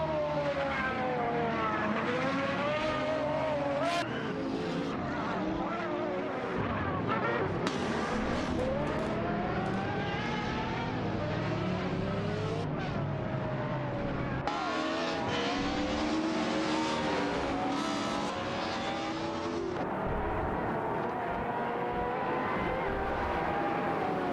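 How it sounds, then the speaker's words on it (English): Powerful race cars such as the B Engineering Idonis and Pagani Huayra BC race in a video game, engines whining and revving continuously in loud, shifting sweeps as cars pass, with no talk. "Nira Sol, Rizaldi Adha, and Mama Husta, each driving powerful cars like the B Engineering Idonis and the Pagani Huayra"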